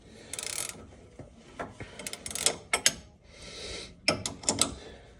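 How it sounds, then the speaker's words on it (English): A torque wrench clicks and ratchets while tightening the sway bar link nuts on a 2007 Chevrolet Silverado 1500, giving several short close bursts of ratcheting with brief pauses between them, and no talking. "then I'll put my torque wrench on them and just kind of dial them in a little bit."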